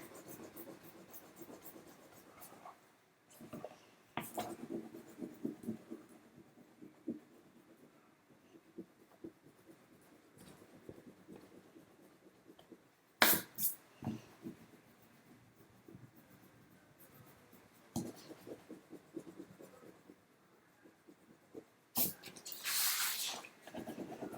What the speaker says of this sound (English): So I'm just covering my whole paper with color.